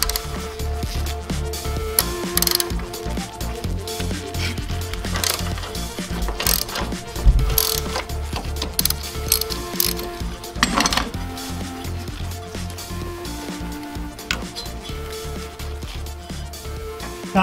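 A ratchet removes the bolts holding the power steering reservoir on a Jeep Wrangler. It makes a dense, continuous stream of metallic clicking and clanking, loud and close, with occasional heavier knocks of metal on metal throughout.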